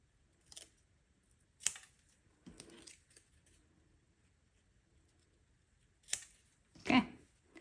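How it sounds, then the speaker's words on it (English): Scissors trimming excess from a handmade paper winter card, heard as a few sharp, separate snips spaced across a quiet background, with the last cut louder and closer. "I think I want to trim this off a little bit more."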